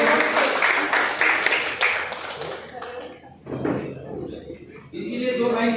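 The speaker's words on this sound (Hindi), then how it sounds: "सब लोग तालियां बजाने बिल्कुल" An audience at an evening gathering claps in a loose burst that fades out midway, then talk resumes with more scattered clapping and voices mixed in.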